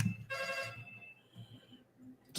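A phone rings once in a short burst during a video call, followed by quiet low talk and shuffling, with a loud noise at the end.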